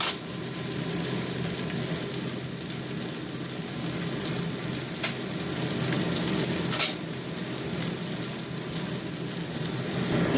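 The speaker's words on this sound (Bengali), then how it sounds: "পেঁয়াজটা অনেকটা ভাজা ভাজা হয়ে আসছে" Onions fry in a pan for a chicken and green pea curry, a steady close sizzle and crackle with occasional sharp pops and faint stirring.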